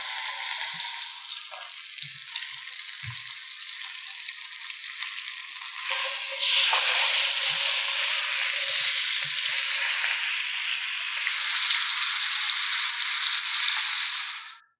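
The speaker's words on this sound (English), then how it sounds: "I'm going to go ahead and sear every side of this the same method" Prime rib sears in a hot pan, giving a steady, loud sizzle that swells partway through and holds until cutting off abruptly, with a few faint low knocks early on.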